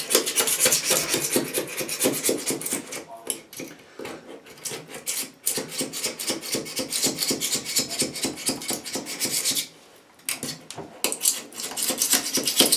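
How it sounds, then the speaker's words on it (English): A small hand scraper rasps old putty off the base of a toilet in quick, repeated back-and-forth strokes, close and steady, with a couple of brief pauses between runs. "I have a nice little scraper. Let's get rid of all this old putty."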